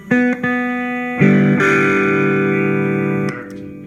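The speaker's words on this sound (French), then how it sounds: "c'est ma distorsion" An electric guitar played through a distortion pedal on a pedalboard: two short clipped chords, then a loud sustained distorted chord that rings for about two seconds before being cut off.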